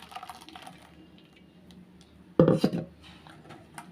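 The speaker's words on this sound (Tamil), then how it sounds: "இப்போ இன்னொரு முறை எடுத்த பாலை வந்து திரும்ப வடிகட்டிக்கலாம்" Coconut milk strained a second time in a home kitchen for a sherbet drink: low trickling and faint handling, then a short cluster of sharp metallic clatters and knocks from the vessel and strainer, close up.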